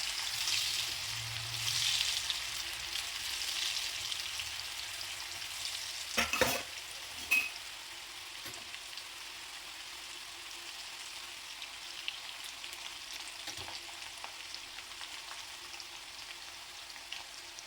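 Spicy potato fries sizzle in a pan on a gas stove as they are fried on both sides, a soft hissing crackle that is stronger at first, with a couple of utensil clatters midway.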